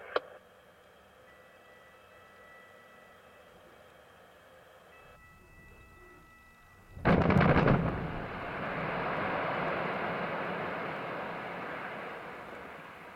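A mine blasting charge fires at a quarry: after a quiet stretch a sharp, loud detonation bursts out, then a broad rumbling roar of falling rock lingers for several seconds.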